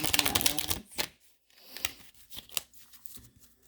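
A small deck of short cards being shuffled, with a dense burst of papery riffling clicks at the start, then a pause and scattered quieter flicks and snaps, close up with no talk.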